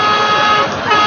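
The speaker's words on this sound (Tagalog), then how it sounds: "Teka, ano yung busina na yan?" A vehicle horn sounds loudly and steadily for about a second, a sustained honk on a noisy Philippine television variety show.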